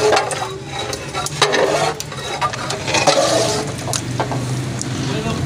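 Rabri being stirred and mixed into cream for a cream cocktail dessert, irregular scraping and squishing of a spoon against the pot, close, with talk over it.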